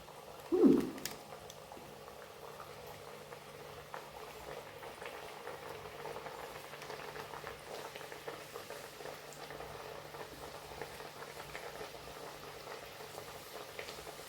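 Hot oil for frying tomato-potato masala kachuri gives a faint, steady sizzle throughout, with one brief knock near the start and no talking.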